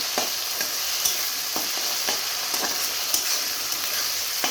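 Ginger-garlic paste frying with browned onions in a pan, a steady bright sizzle broken by the scrape and clatter of stirring strokes that land about once a second, close and fairly loud, with nobody talking.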